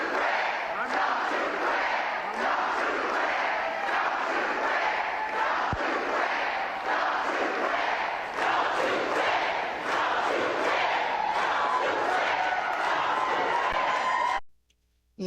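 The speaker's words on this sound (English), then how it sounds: "why do you think the crowd was chanting? for Biden" A large political rally crowd in Detroit, Michigan, chanting for Biden, loud and sustained for about fourteen seconds with dense overlapping voices, then cutting off abruptly.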